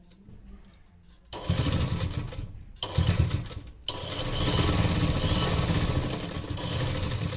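A sewing machine runs a double seam on ladies' trousers, starting after a quiet moment and whirring in loud bursts with a brief pause, then continuing steadily up close.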